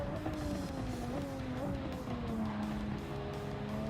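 Race cars roar around the Red Bull Ring in a racing video game, engines whining and shifting pitch as they run close together, with a brief tyre squeal, loud and continuous throughout.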